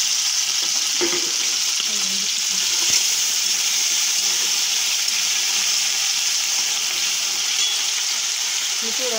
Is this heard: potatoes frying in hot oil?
yes